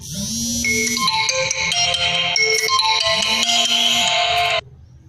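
A phone ringtone plays loud and close, a repeating electronic melody over a low tone. It goes on for about four and a half seconds, then cuts off abruptly.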